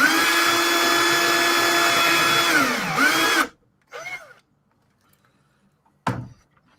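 Power drill widening a hole in a Spitfire model part, whirring steadily and close for about three seconds, winding down and stopping, followed by a couple of brief knocks and clatters.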